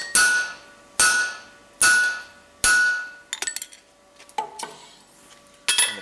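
A hammer strikes a punch through hot steel while blacksmith tongs are made. Four loud, ringing metallic blows fall about a second apart, followed by lighter, irregular taps and clinks.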